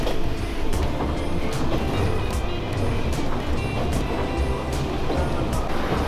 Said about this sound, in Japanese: 列車はだんだんと山の中に分け入っていくように進んでいきます。